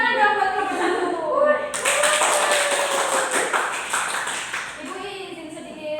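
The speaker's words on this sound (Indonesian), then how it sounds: "Beri tepuk tangan dong buat nomor" Classroom applause during a micro-teaching physics lesson, a burst of clapping by students that starts abruptly and lasts about three seconds, loud and close, with a teacher's voice speaking before and after.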